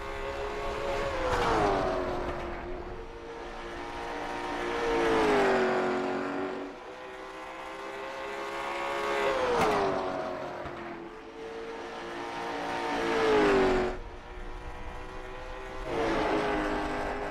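Race car at the Sunshine Derby short-track event running a timed qualifying lap, engine rising and falling through repeated accelerations and lifts as it circles the track, steady and fairly loud with a whining tone.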